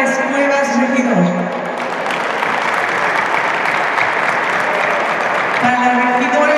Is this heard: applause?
yes